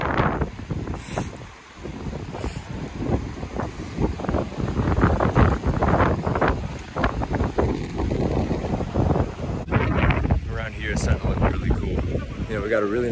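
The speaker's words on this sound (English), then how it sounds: "It's getting a little windy." Gusty wind buffets the microphone with a broad, rumbling roar, steady and fairly loud throughout, while a person talks over it.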